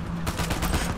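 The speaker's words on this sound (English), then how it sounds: "Blind firing an AK." An AK rifle is fired blind in a video game, a rapid burst of close, loud automatic gunfire lasting about a second.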